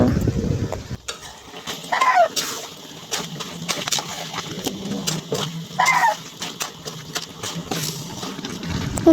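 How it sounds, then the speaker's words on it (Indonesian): A large batch of chicken for semur is stirred in a hot pan, with repeated scraping strokes and wet shuffling over a low sizzle. The stirring comes in uneven bursts, close and fairly loud. "Saya aduk-aduk dulu ya guys sampai merata."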